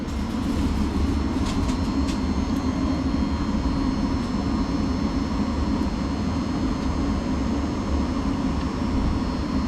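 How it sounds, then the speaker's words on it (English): A Thameslink train to Horsham pulling away from a small West Sussex platform, a steady loud rumbling roar of motors and wheels holding throughout, with faint squeaks near the start. "So departing now should be the delayed 1733 Thameslink service to Horsham."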